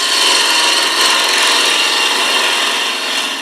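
A detail gouge cuts a wooden pillar candlestick spinning on a lathe, giving a steady, loud, close scraping rasp that carries on without a break.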